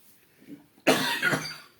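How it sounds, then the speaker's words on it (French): A single sharp, loud cough bursts out after a near-silent moment, then trails off into a rougher second push, as if something was swallowed or a bit of dust caught in the throat. "Une petite mauvaise toux que j'ai dû avaler quelque chose."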